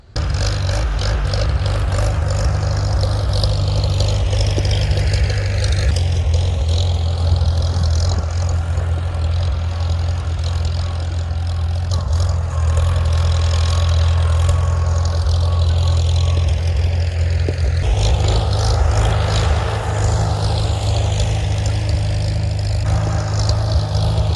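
A Farmall Super C tractor engine runs loud and close, its governor surging so the rumbling idle swells and dips in slow, repeated waves over about twenty-four seconds.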